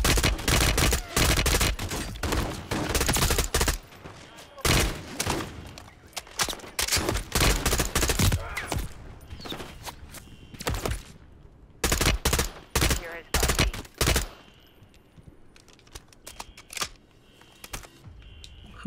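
Rapid bursts of gunfire from the Modern Warfare 3 campaign mission 'Oligarch', loud and close, with dense volleys in the first half, sporadic shots through the middle, then another heavy burst before quieter stretches.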